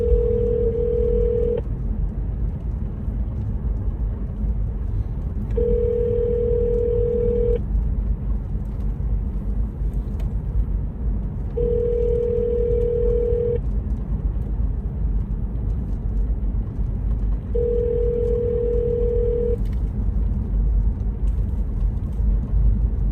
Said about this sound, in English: Call that number again. I'm just feeling they're gonna answer this time.